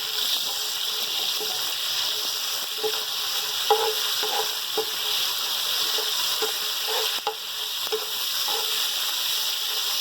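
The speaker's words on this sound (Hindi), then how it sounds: "सबसे पहले हम ये अपने मसाले डालेंगे, मसाले फ्राई करेंगे।" Spices frying in a pot for black masoor dal and rice: a steady, fairly loud sizzling hiss with small scattered pops and light stirring taps, alone without talk.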